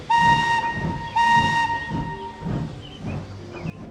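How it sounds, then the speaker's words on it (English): Two loud, sustained steam whistle blasts sound near from a locomotive stopped at a signal box, each followed by rhythmic chuffing and hiss. "He reached a signal box and stopped, whistling for a road."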